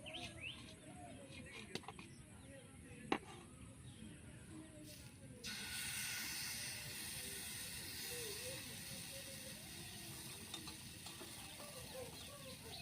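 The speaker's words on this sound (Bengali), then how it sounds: "ওই তেলের মধ্যে আমি যে এই যে ব্যাটারটা তৈরি করে রেখেছিলাম পরিমাণ মতো দিয়ে দিচ্ছি" Mango patishapta batter poured into hot oil gives a steady close hiss that grows louder and denser midway, with a few faint clicks over it.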